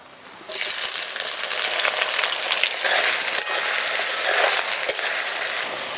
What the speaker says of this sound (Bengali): ফোড়নে তেজপাতা, গোটা গরম মশলা, পেঁয়াজ কুচি,